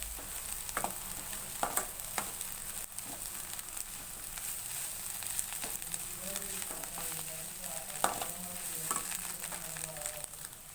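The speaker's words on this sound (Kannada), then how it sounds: "ಚೆನ್ನಾಗಿ ಕೊತ್ತಂಬರಿ ಸೊಪ್ಪು ಕೂಡ ಎಲ್ಲ ಮಿಕ್ಸ್ ಮಾಡ್ಕೋತಾ ಇದ್ದೀನಿ" Egg bhurji with coriander leaves stirred in a hot pan: a steady sizzle with scattered scraping and tapping strokes of the spoon, close and moderately loud, with no talking.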